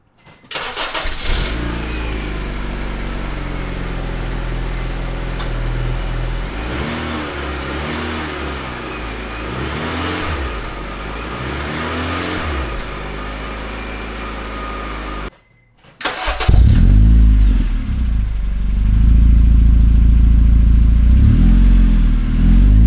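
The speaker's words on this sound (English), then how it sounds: "There's the new exhaust, the Yonaka Motorsports exhaust installed." A 2010 Honda Civic LX sedan's engine starts and idles with a deep rumble through a new Yonaka Motorsports exhaust, revving repeatedly, then cuts out briefly before restarting louder and more aggressive.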